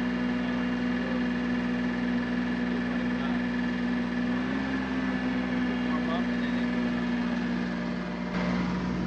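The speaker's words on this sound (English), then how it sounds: "It's idling high, fast. Once the engine warms up, then you hear it slow down." A small Kei truck engine idles high and fast while warming up, a steady droning hum that holds throughout, close to the listener.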